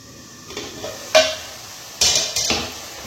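Spoon scraping and knocking in a pot of chicken gizzards and livers being stir-fried, a few distinct clanks and scrapes over a soft background hiss, close and alone.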